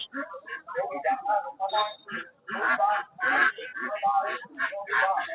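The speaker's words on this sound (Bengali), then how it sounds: "হাঁস, এগুলো সব চাষের হাঁস।" Farmed ducks at a village market quack in loud, close, repeated bursts, several birds calling over one another in a busy rhythm.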